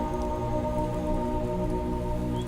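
Steady rain pattering on surfaces in the video game Rain World, an even, continuous wash of drops with no voices.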